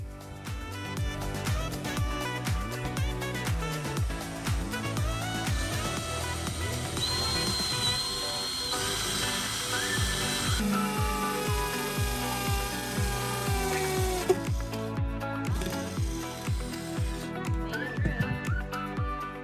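A power drill bores a hole through the metal floor of a Ford Transit campervan, its whining, droning tone running continuously for about twenty seconds, close and fairly loud.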